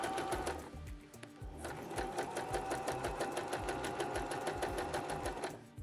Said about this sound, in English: We'll also open up this stitch right here, insert this, and then sew it back closed.